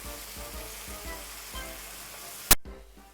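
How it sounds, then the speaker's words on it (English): Oil sizzling and frying in a pan for Jamaican fried saltfish, a steady close crackle with rhythmic pulses, ending in a sharp loud clatter and clunk. "oh, it's frying up so lovely and nice."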